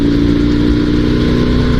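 A Dnepr sidecar motorcycle with a two-wheel-drive setup runs loud and close on an off-road ride. Its engine gives a steady low, throbbing drone with a rough, pulsing character and no speech over it.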